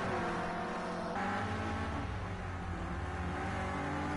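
Renault Clio Cup race cars on a circuit, a continuous loud engine drone that swells and shifts as the cars drive past together.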